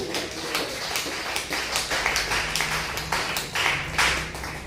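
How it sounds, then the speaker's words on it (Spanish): Church congregation clapping together in a steady rhythmic beat, the claps close and fairly loud with a low background hum underneath and no speech. "Aplauda fuerte el nombre de Jesús."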